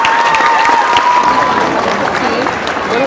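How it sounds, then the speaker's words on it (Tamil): Audience applause fills the space as steady, dense clapping from a crowd gathered to thank lunch-service workers, with a voice speaking over it. "அவங்களுக்கு உண்மையிலே கரகோஷம் தெரிவிங்க எல்லாரும்."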